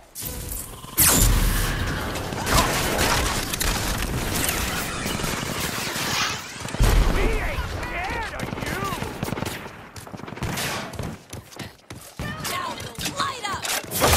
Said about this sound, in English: Here comes the shotgun.